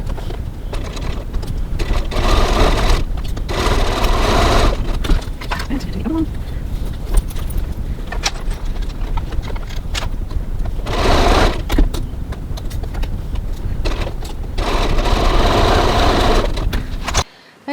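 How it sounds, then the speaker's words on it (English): A sewing machine stitches the bottom corners of a cross body bag with a 1 cm seam at a 2.4 stitch length, in several sustained runs separated by short pauses. "now we're going to stitch these bottom corners using a 1 centimetre 3/8 of an inch seam"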